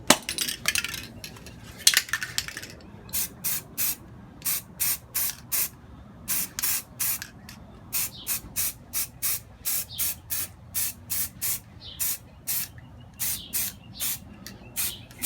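A spray can lays a first coat of paint on a Batmobile model, with a few longer hisses followed by a run of short, evenly spaced bursts of close, sharp spraying and quiet gaps between them.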